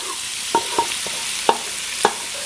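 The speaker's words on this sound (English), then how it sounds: "I'm going to go in with my mushrooms and my shallots." Mushrooms and sliced shallots frying in butter in a pan, with a few distinct stirring scrapes and soft crackles over a steady sizzle close by.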